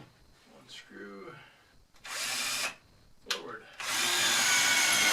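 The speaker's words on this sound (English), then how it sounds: "So I like pre-drilling, especially on, most of the wood I end up using." Power drill pre-drilling screw holes in wood for a kitchen build, two loud bursts of whirring drilling separated by a pause, with a brief spoken word before them.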